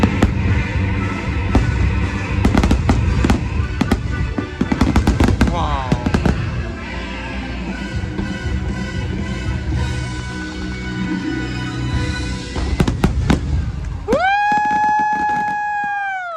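Fireworks at a Disney Halloween party burst in loud, rapid clusters of booming and crackling explosions, with crowd noise throughout and a rising whistle-like tone near the end.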